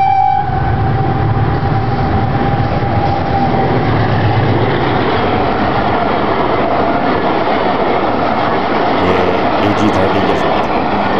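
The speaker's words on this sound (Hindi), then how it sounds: "इतनी बड़ी लोकोमोटिव और इतनी छोटी सी ट्रेन।" A big locomotive hauling a short passenger train runs at speed, producing a loud, continuous rumbling roar close by, with a tonal horn-like note at the start.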